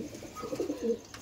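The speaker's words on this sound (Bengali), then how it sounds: "পায়রা দেখুন, আমাদের দেবুদা পায়রা দেখাচ্ছে" A domestic pigeon at a pigeon dealer's gives a short, close, soft cooing call of a few low rolling notes over faint background noise.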